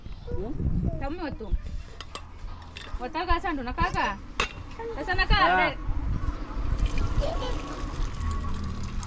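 Utensils are scrubbed and rinsed outdoors on a roadside stop along a ghat road, with water splashing, clinking pots and dishes, and people talking over the washing throughout.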